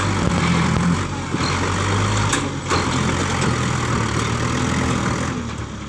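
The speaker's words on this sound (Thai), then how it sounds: "วันนี้มาชม รถไถ MU49 นะครับผม" Kubota MU4902 farm tractor pushing against a tree with many roots, its diesel engine giving a steady, loud low rumble and whine that keeps on for several seconds with small changes in load.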